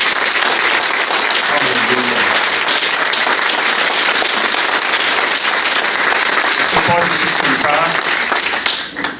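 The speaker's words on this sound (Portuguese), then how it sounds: "dê uma salva de palmas ao Senhor" A church congregation gives loud, sustained applause to the Lord, dense continuous clapping with scattered shouts and voices mixed in, tapering off at the very end.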